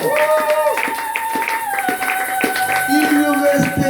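A church congregation claps rhythmically in steady, loud beats while voices sing or call out along with it, a sustained tone hovering beneath the clapping.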